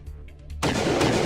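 An AC2 autocannon fires in the Battletech video game: a single loud, sudden blast that cuts in after a quiet moment and rings out with a sustained rumbling roar.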